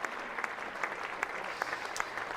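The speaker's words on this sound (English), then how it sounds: "You can hear the appreciation of the crowd." Cricket crowd at a County Championship match between Warwickshire and Durham applauding an innings, steady distant clapping from a stadium crowd with a few sharper claps standing out.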